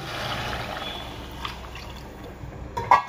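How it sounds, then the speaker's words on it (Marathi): Water trickles and drips steadily into a cooking pot of mutton for tambda rassa, a soft continuous liquid sound with a slightly louder splash near the end. "आता आपण टाकून घेऊया पाणी."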